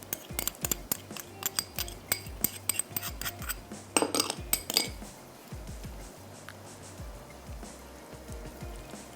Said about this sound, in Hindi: अब मैं क्या करती हूँ कि ये दही और जो क्रीम है इसको मिक्स कर लेते हैं।